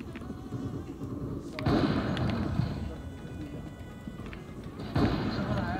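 Gunfire in the Counter-Strike 2 video game, with a few sharp broadband bursts standing out over a busy, noisy game mix, the loudest near the start of the second and fifth seconds.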